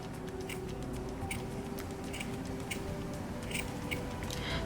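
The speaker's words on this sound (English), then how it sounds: "For the eyes, you could cut a circle and then cut the circle in half." Scissors snip a paper circle in half for a mini puppet's eyes, a handful of crisp, quiet cuts spaced unevenly over a low room hum.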